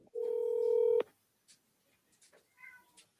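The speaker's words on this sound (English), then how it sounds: "So let's give the seller a call here." Steady electronic telephone dialing tones as a call is placed to a home seller, about one second of loud tone followed by quieter faint clicks and handling noises.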